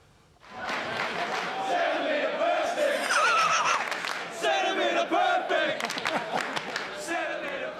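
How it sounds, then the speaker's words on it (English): A large crowd at a wrestling event in Melbourne chants loudly and continuously in unison, a dense roar of many voices filling the clip from start to finish. "when he was wrestling in Melbourne, this is what the crowd were chanting."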